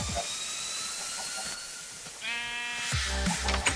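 Minecraft sheep bleats, a couple of nasal wavering calls heard alone and fairly close, the second one louder and longer, over faint in-game background noise.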